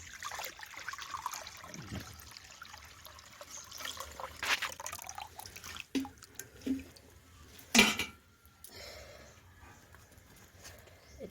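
Fresh date palm sap being strained for jaggery, liquid trickling and splashing unevenly through a strainer, with a few louder pours and knocks midway.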